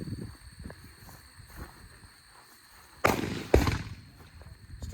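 Two loud, sharp shots from a Staccato P pistol at an outdoor range ring out about half a second apart after a stretch of quiet shuffling, each with a brief echoing tail.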